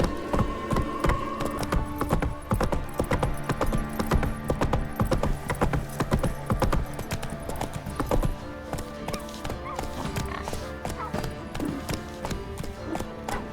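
Geralt's horse Roach gallops in The Witcher 3 Wild Hunt, its hooves beating a fast, dense clip-clop rhythm without pause, loud and close, over a steady bed of game ambience.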